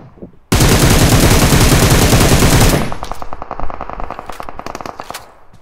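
Gunfire in the mobile video game PUBG Mobile: a loud, sustained automatic burst of rapid shots for about two seconds, followed by scattered quieter single shots and short bursts.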